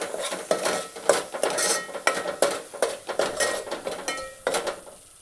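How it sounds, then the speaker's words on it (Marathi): Spices, red chilli powder, turmeric, pav bhaji masala and coriander-cumin powder, stirred and sautéed in a pan for street-style pav bhaji, with a steady run of spoon scrapes and clinks against the metal and a faint sizzle, close and without talk. "आणि हे सगळं एकत्र मिक्स करून घेणार आहोत आणि छान परतवून घेणार आहोत."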